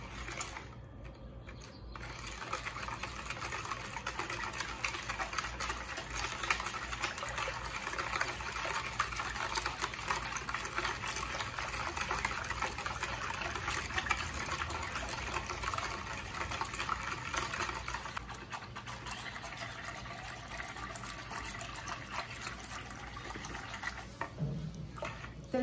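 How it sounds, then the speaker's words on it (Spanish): Oreo ice cream mixture being stirred steadily until the ingredients dissolve, a continuous liquid swishing and sloshing that runs close and even throughout with no talk. "Voy a revolver hasta que se disuelvan todos los ingredientes y se mezcle todo"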